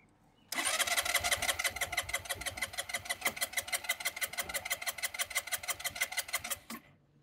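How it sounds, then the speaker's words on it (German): A scooter's small engine cranks on its electric starter in rapid, steady pulses for about six seconds, loud and close, then stops abruptly without catching. "Wir ziehen jetzt am Gas und versuchen den Roller zu starten, beziehungsweise klicken den E-Starter."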